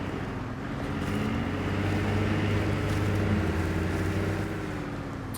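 A modded 1988 Ford Ranger churns through hood-deep mud in the game Snowrunner, a steady droning engine roar with low rumble that swells slightly mid-way, heard alone without voices.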